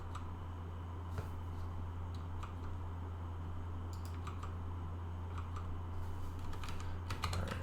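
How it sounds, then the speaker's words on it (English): Computer keyboard typing while coding a React Native password vault app, soft scattered keystroke clicks spread over a steady low hum, fairly quiet and close, no talking. "I actually just was typing these down"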